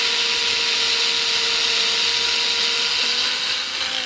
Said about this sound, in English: I'm just cleaning this tip cleaner of mine, which is basically a pin that's been put into the chuck of this drill